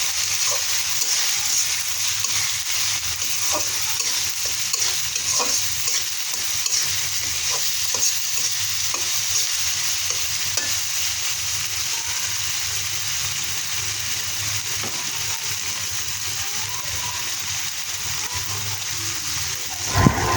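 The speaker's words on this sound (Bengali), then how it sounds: "মশলাটা ভালো করে নেড়ে নেব।" Spice paste for goat tripe curry stirred as it fries in a pan, a constant close sizzle dotted with light scraping and tapping strokes of a spoon throughout, no voices.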